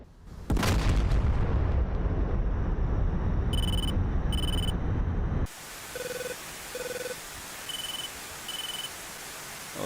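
In the DCS combat flight simulator, a bomb is shot down by air defence fire. A loud, sustained rumbling roar cuts off abruptly, followed by a series of short, evenly spaced electronic warning beeps.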